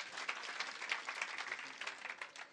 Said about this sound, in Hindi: एक बार फिर से वैसी तालियां बजाओ